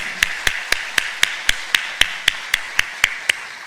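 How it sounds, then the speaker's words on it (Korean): A church congregation claps in unison during a Sunday worship service, about a dozen sharp, evenly spaced claps ringing out loud and clear in a steady beat. "하나님께 박수로 영광 돌리겠습니다"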